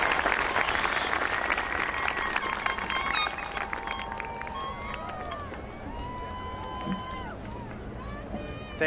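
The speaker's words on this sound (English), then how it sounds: "join me in a rousing round of applause for these wonderful graduates" Graduation-ceremony audience at the Everett High School Class of 2026 commencement applauding the graduates, a dense steady clapping with crowd noise and whistles that gradually tapers, with cheers and voices mixed in.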